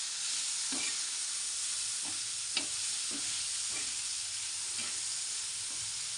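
Cluster beans (guar) sauté with salt in a hot pan. A steady, bright sizzle hisses throughout, broken by a few soft stirring scrapes and one sharp tap of a utensil. No one speaks.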